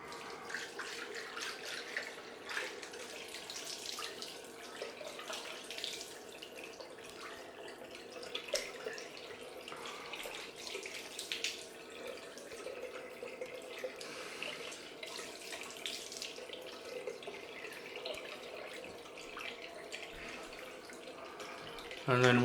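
Cold water runs steadily from a bathroom tap for a rinse after shaving, a continuous rushing splash that stays even throughout at moderate level.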